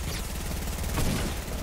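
SMG fire in a Fortnite match, a dense rapid burst of shots blurring into a continuous loud rattle with no pauses.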